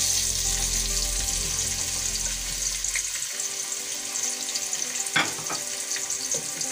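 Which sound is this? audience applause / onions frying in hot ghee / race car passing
onions frying in hot ghee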